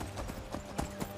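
Horse hooves clip-clop in a steady trotting rhythm in Skyrim, close and fairly loud over a dense game background.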